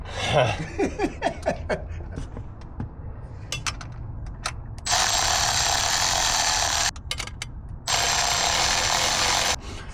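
Bolts on a 2020-or-later Ford F250/F350 intake and charge-pipe install are tightened with a hand tool in a series of quick clicking ratchet strokes, followed by longer bursts of a power tool, with people talking nearby.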